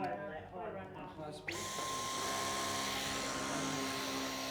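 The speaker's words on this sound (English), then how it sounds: "What do you reckon would be the noise levels from the vacuum cleaner?" A vacuum cleaner switches on in a workplace seminar room after a moment of voices, then runs as a loud, steady roar with a thin, constant whine.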